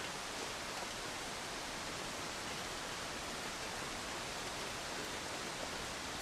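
A waterfall in The Long Dark pours as a steady, dense hiss of rushing water, even and unbroken throughout, heard alone at a moderate distance without any voices.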